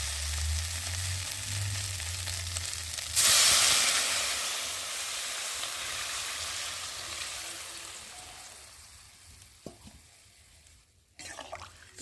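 Fried masala in a pan for a fish curry with drumstick stalks sizzles loudly and jumps to a bright burst of steam as water hits it, then the hiss settles and fades over several seconds, ending with a few faint clinks.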